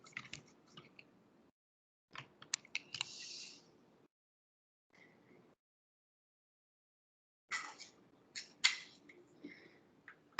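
Quiet bursts of soft tapping and clicking on a keyboard, coming in short flurries separated by pauses of silence.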